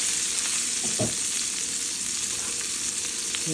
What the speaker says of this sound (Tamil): சங்கரா மீனை வச்சு சூப்பரான ஃப்ரை ரெடி ஆகிட்டுருக்கு